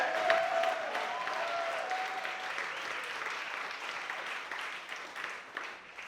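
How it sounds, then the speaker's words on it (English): Sustained applause from an awards-show audience cheering the year's songwriter nominees, a steady dense clapping that slowly tapers, with a faint whistle near the start. "So let's make some noise for all the nominees this year."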